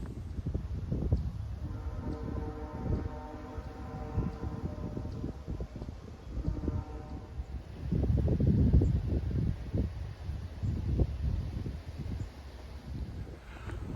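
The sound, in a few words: strong wind outdoors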